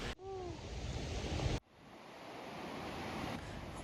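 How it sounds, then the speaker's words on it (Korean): A 60 m waterfall in Iceland below the Eyjafjallajökull glacier, roaring as a constant broadband rush of falling water with heavy wind buffeting the microphone, cut by a brief break before the roar resumes. "빙하 에이야 파틀라 요쿨 밑에서 시작된 60m 높이의 폭포로 2010년 바로 아래 화산이 폭발했습니다"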